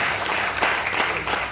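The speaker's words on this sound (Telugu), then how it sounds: "ఒక్కసారి గట్టిగా క్లాప్ చేయవచ్చు." A business-event audience breaks into dense, loud applause: many hands clapping together in a continuous patter with a few sharper claps standing out.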